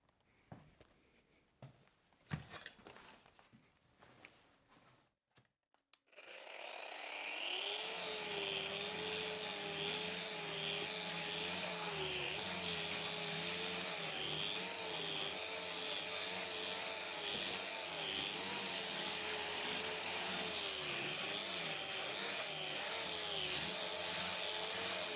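A Festool RG 130 renovation grinder powered from a SYS-PowerStation whines up after a few seconds of quiet handling noise, then runs loud and steady with a wavering tonal motor drone and broadband grinding hiss throughout.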